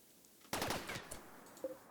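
Video-game gunfire in RimWorld erupts as a sudden rapid burst of shots, loud and crackling for about half a second, then trails off with a couple of scattered later pops.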